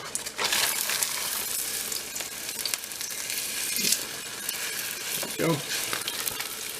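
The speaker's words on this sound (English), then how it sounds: "I'm going to fry each side until it gets to a golden brown color." Green onion cakes frying in oil in a pan, a loud, continuous crackling sizzle up close with a few brief stirring or shifting noises and a short spoken word.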